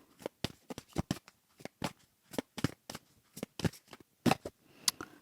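Tarot cards being shuffled and drawn at a table in a card reading, heard as a string of sharp, close riffling bursts and flicks at an uneven rhythm, with no talking over them.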